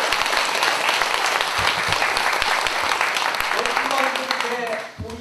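Applause from a congregation at a Saturday Buddhist dharma service, a dense steady wash of clapping that holds for about four seconds before thinning out, with a voice starting to speak near the end.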